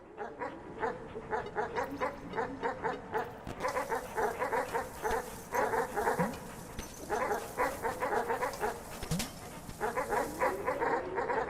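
A pack of three dogs in the Animal Well video game barks in quick repeated bursts of short, bright yips. Between the bursts there are brief pauses, and the barking carries steadily over quiet game sounds.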